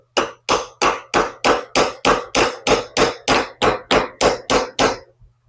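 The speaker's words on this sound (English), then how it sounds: "Improvised hammer." Fourteen sharp metallic hammer blows from an improvised hammer on an old Chrysler outboard trim unit, in a steady, even rhythm, loud and close, with no talking.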